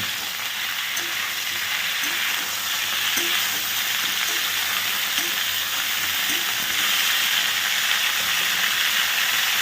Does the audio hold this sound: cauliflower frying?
yes